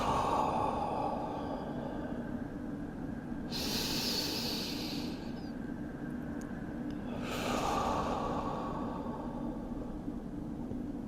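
Deep yoga breaths directed into the back and pelvic floor, two long hissing exhales several seconds apart with quieter inhales between, close and soft, with no talking.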